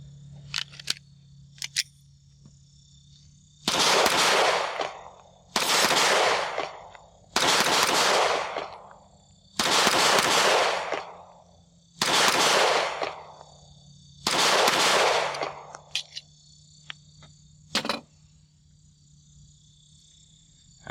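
Six loud pistol shots from a Keltec P15 metal frame pistol ring out at a steady, unhurried pace, each with a sharp crack and short decay over a quiet outdoor background with faint ticks between shots.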